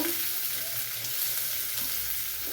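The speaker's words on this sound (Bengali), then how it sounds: "আদা কুচি, পেঁয়াজ কুচি, রসুন কুচি তিনটে একসাথে ভালো করে ভেজে নেব।" Chopped ginger, garlic and onion sizzle steadily in a hot pan for a Bengali chana masala, a close, even frying hiss with no voices.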